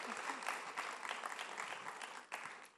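Audience applause at an Ideas of India event, welcoming a singer: a steady wash of clapping from a large crowd that stays moderately loud throughout, with a brief swell near the end and no talking.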